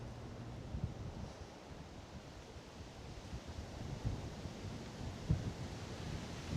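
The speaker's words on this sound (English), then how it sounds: "Ooh, a bit of a gust of wind there." Wind gusts across an outdoor terrace overlooking Ventnor Bay, buffeting the microphone with a steady low roar and brief louder thumps, alone without any voices.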